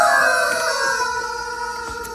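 Several push-activated toy chickens in a store crow at once, overlapping wavering tones that sound almost like a harmonized chorus, fairly loud and fading slightly over two seconds.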